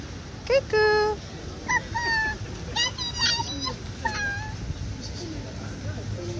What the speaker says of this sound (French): Bonjour les petits chats.